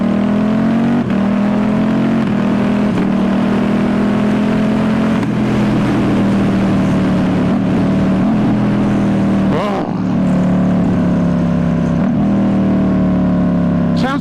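A 2019 Ducati Diavel S motorcycle with a full aftermarket exhaust revs hard and drones loudly up close, with deep exhaust rumble and shifting pitch as it accelerates.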